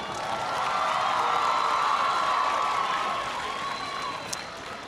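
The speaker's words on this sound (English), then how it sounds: "Can everybody please give Ali a big round of applause" An audience at a community college event applauds and cheers for a woman named Ali, a dense swell of clapping that builds, holds and then eases off, with a brief sharp whoop near the end.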